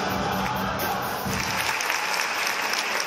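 A concert hall audience applauds the State Choir of Tatarstan after a medley, a dense, even wash of clapping from a large crowd that holds steady throughout.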